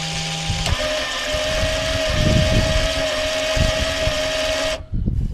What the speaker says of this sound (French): Le moteur électrique tourne pendant au moins 30 secondes